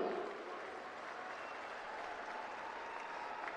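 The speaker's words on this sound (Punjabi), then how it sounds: "ਤਾੜੀਆਂ ਮਾਰੋ ਨਾ ਫਿਰ ਹੁਣ" A crowd at a political event in Punjab claps steadily in a dense, even patter of applause lasting a few seconds, heard at moderate distance.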